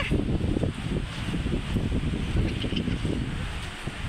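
Strong wind buffets the microphone at a seaside spot, a loud, continuous rumbling roar with gusty low thumps and no voices heard.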